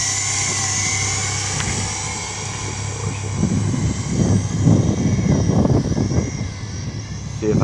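A JJRC H28C quadcopter drone with a gimbal and removable rotor arms flies near a tent, giving a steady, close, high-pitched buzz of small rotors. Rustling noise and a voice join in about halfway through.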